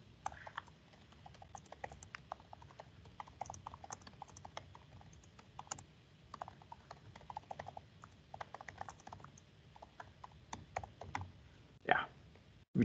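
Steady typing on a computer keyboard, a quick irregular patter of close key clicks with brief pauses and a louder clack near the end, recorded at low level.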